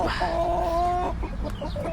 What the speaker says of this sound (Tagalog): ayan yung mga manok natin nag-aantay sila ng kakainin nila